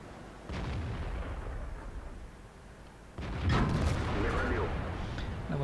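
A tank cannon fires in an online tank battle game, two heavy booming shots spaced a few seconds apart, each with a sharp crack and a rumbling tail over low battle noise.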